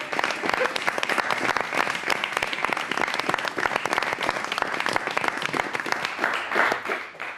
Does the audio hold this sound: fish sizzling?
no